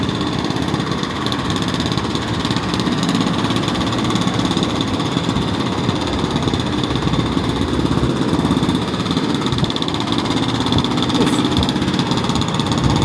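Demolition machinery ripping out a white stone pedestrian walkway in a city street, a loud, steady, grinding engine roar with rattling impacts continuing throughout without pause.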